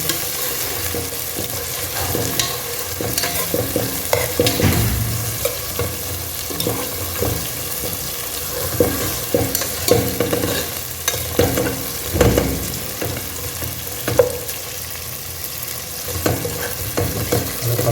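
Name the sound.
eggplant frying in oil for fish curry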